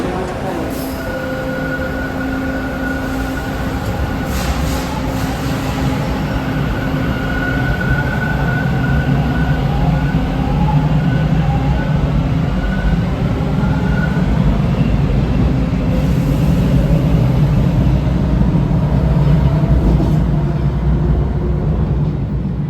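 A Toronto subway train sits at Bay Station in Yorkville, giving a loud, continuous underground rumble with a steady tonal hum and mechanical whine, and a voice speaks over it.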